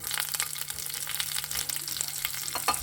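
Mustard seeds and a chili crackle and sizzle in hot oil for a tadka, a brief, close, busy spitting and popping with no voices.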